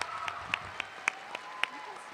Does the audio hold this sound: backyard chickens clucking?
no